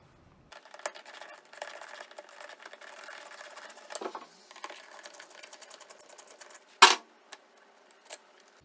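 On a Chevy Silverado's third brake light, a driver spins out T20 bolts with a rapid mechanical ratcheting whir in short bursts, followed by a few sharp clicks and a louder clack near the end.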